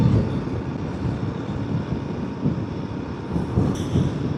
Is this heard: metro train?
yes